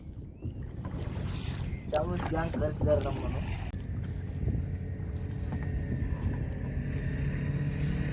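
Small boats drone on open deep sea water with gusty wind buffeting the microphone, and a voice calls out briefly partway through.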